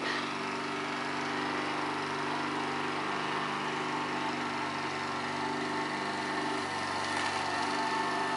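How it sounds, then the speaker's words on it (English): A lawn mower engine drones steadily throughout, even and unbroken, at moderate distance with no talking over it. "Sorry for the lawnmower"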